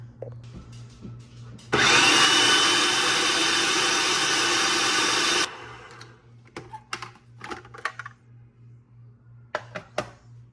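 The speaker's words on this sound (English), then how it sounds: "we're just putting it into our food processor" A food processor whirs loudly for about four seconds as it blends cooked apples into applesauce, starting and stopping abruptly, with quieter clinks and kitchen handling noises before and after.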